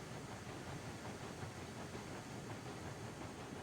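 The Mosca steam locomotive hauls a train in Railroads Online, heard from the cab as a constant broad hiss and rumble with faint rhythmic chuffing underneath, steady and fairly quiet throughout.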